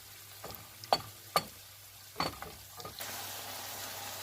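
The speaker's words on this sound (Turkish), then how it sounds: "yarım kilo kıymamızı onu da güzelce kavuruyoruz." Half a kilo of minced meat frying in a pan, quiet sizzling broken by several sharp spatula scrapes and clicks, then a louder burst of hissing toward the end.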